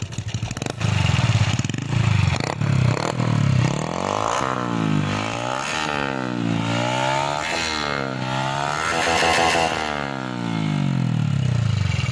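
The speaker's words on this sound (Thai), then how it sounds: "เสียงเครื่องมันดังๆหน่อยนิดนึงอ่ะ" Honda Wave motorcycle engine revved repeatedly in close range, rising and falling in a series of throttle blips over a loud steady idle, with no voices.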